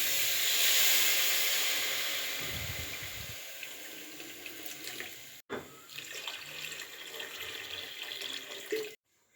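Water streams steadily into a pan of frying rice for pulao, a continuous hissing pour with a brief break before it resumes and then cuts off. No one speaks.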